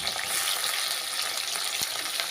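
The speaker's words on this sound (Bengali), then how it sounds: "এবার কেটে রাখা পেঁয়াজগুলি দিয়ে দেবো।" Chopped onions fry in oil tempered with cumin seeds and dried red chillies, a continuous dense hiss and crackle close up, with a faint stirring scrape.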